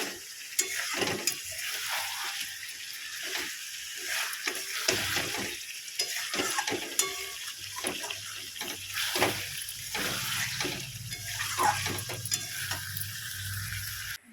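Chicken sautéing and being stirred in a pan, with close sizzling and repeated scraping strokes of a utensil, followed by water poured in, bringing a lower bubbling hiss in the later part.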